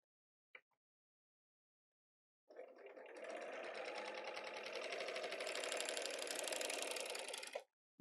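A sewing machine runs steadily for about five seconds, trimming a fabric edge with its side knife, giving a fast, even mechanical whir that starts after a short click and stops abruptly.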